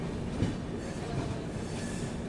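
The GT Express rolls around a curve just out of Chennai Egmore, a dense, steady rumble of wheels and carriage noise filling the whole stretch at close range, with no clear individual clacks.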